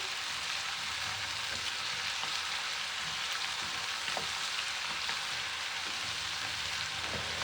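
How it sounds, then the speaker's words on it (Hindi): Fenugreek leaves fry in a pan for a soya methi keema, producing a soft, even sizzle that runs the whole time with faint occasional stirring ticks, and no speech. "मेथी का थोड़ा सा कलर चेंज हो जाए इतना फ्राई करेंगे।"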